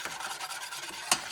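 Custard cream ingredients, egg yolks with sugar, are stirred in a saucepan, giving soft rhythmic scraping strokes close up. One sharper scrape stands out near the end.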